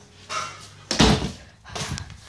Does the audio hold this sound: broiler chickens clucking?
no